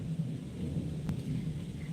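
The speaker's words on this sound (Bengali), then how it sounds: "দেখো মেঘ ডাকছে বৃষ্টি হচ্ছে" A low, rolling rumble of thunder mixes with soft, steady rain, heard from a distance with no voices.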